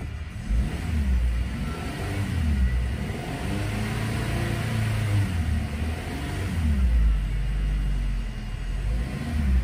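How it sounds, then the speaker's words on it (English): A 2019 Subaru Impreza engine idles and revs with a steady low rumble, swelling and easing in waves, close and continuous with no talk. "Obviously the engine runs real nice"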